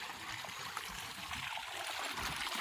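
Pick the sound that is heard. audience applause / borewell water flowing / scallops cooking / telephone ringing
borewell water flowing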